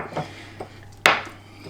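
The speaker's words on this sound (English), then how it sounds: "grab some of this mixture and just start pushing it into the bowl, into this ceramic pot" Soap mixture of Tabac and Mitchell's Wool Fat pressed by wet hands into a ceramic pot: a few soft dull knocks and one sharper ceramic clack, close and quiet, with no talking.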